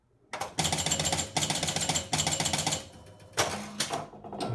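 Gottlieb Sure Shot electromechanical pinball machine totting up its score after the ball drains: rapid mechanical chattering and clacking in several close bursts separated by short pauses.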